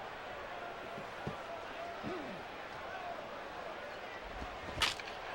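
A single sharp wooden crack rings out near the end, like a baseball bat breaking, under ongoing commentary and light crowd noise.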